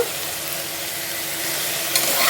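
Toor dal stirred with garlic and tomato in an oiled frying pan makes a continuous close sizzle with light scraping from the stirring, growing slightly busier toward the end. No voices.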